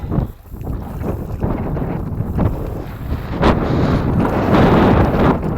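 Wind buffeting around a small paddled boat on open water, a steady broadband rush that swells slightly louder toward the end, with no voices.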